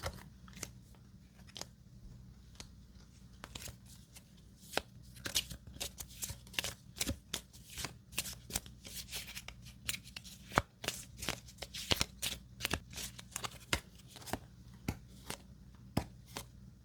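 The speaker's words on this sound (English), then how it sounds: "We move to the next area, and we re-deal the cards." Cards from the Mini Rogue card and dice game are gathered and re-dealt close up, with crisp, soft snaps and slides that come in a dense, irregular run of quiet clicks throughout.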